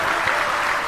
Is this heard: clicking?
no